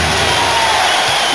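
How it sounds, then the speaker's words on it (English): A packed basketball arena crowd roaring during overtime of a 2008 NBA Western Conference playoff game between the Spurs and Suns, a loud, dense, continuous wall of cheering in a short burst. "Crowd on its feet once again."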